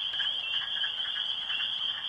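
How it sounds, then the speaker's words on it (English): A wood frog calls steadily outdoors, a continuous, close chorus of rapid, duck-like croaks. "It sounds like the wood frog."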